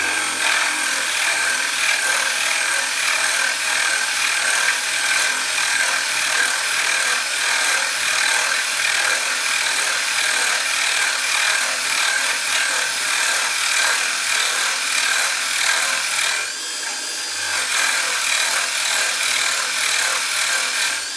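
A drill bores about two and a half inches into wood for a carved ventriloquist dummy figure, giving a loud, steady, close grinding rasp that runs continuously with one brief dip near the end, with no talking.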